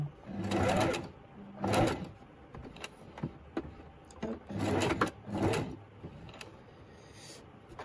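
A sewing machine runs in two longer bursts and several shorter ones, stitching a seam along a zipper, its motor whirring and stopping close by with no talk.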